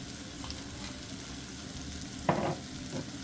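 Chicken marsala sauce with fresh parsley, salt and pepper sizzles steadily in a pan while being stirred, with a short, louder scraping stir near the end and no talk.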